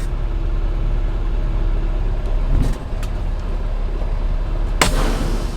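Truck engine rumbling steadily while pulling a large 50-foot trailer forward, a loud, close low drone with a brief clank midway and a sharp hiss of air near the end.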